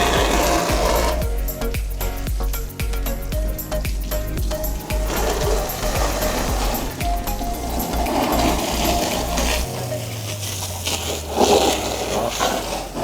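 A water spray blasts the underside of a car's fender during a wash, a loud continuous hiss over a rhythmic pulsing pump drone that shifts and drops in pitch near the end.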